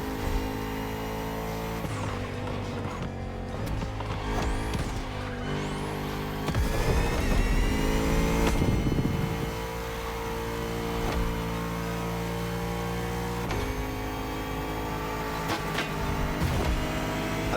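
A Bugatti Vision GT engine in The Crew Motorfest racing game runs loud and steady, climbing through revs and holding a continuous mechanical roar throughout.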